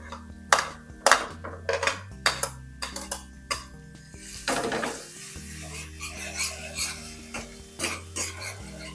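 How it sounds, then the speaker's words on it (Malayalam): Garlic cloves and chopped green chillies dropped into hot oil, giving a sizzle broken by repeated stirring knocks and scrapes of a utensil against the pan, close and fairly loud. "ഈ ചൂടായ എണ്ണയിലോട്ട് വലിയ 2 പൂണ്ട് വെളുത്തുള്ളി അത് ഇട്ട് കൊടുക്കാം."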